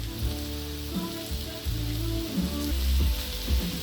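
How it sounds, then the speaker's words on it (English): Close, steady crackling and hissing of bacon and onions sizzling on a hot grill tray, with music playing underneath and no talking. "So we'll let that sizzle for a bit"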